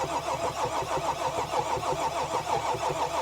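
A Mercedes GL350 engine cranks without firing while a fuel line is cracked open, a steady, continuous starter-motor churn with a rhythmic pulsing, close and moderately loud, running for several seconds with no catch.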